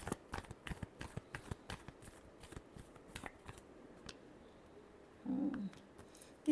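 Tarot cards riffle and slap through a quiet shuffle, a steady run of short crisp flutters and taps, followed by a brief louder rustle near the end.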